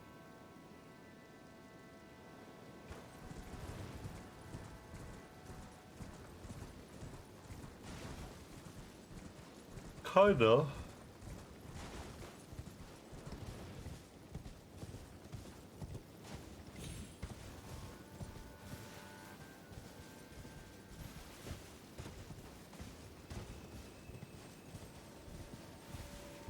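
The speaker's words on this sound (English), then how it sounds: "the sound and the whistle when you get on the horse give me like a torture feeling" Quiet rhythmic hoofbeats of a horse in the video game Elden Ring: Shadow of the Erdtree clip-clop steadily through most of the clip, with a brief louder burst partway and a voice murmuring a word.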